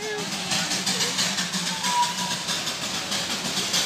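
A lone locomotive engine running near Kurseong, with no carriages attached, gives a close, steady mechanical rumble with a faint rhythmic pulsing over its few seconds.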